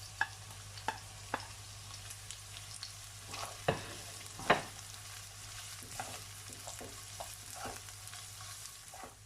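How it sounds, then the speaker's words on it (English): Onion and garlic sweating in a pan for a green bean, courgette and pork belly stir fry, a quiet steady sizzle broken by scattered soft clicks and spatula taps, close but faint, no voices. "Next I'm gonna add in my onion and garlic, and I'm just gonna let the onion sweat a little bit"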